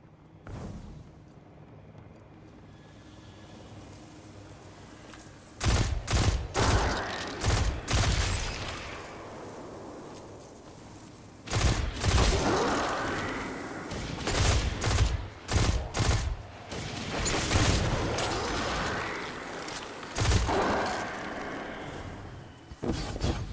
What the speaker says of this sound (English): So this is the pulse rifle that we made together.